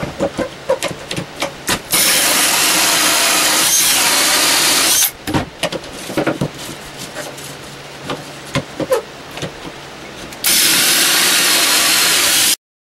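A power drill bores a birdhouse entrance hole with an opening jig in loud, sustained bursts of whining, broken by short pauses filled with clatter and handling knocks.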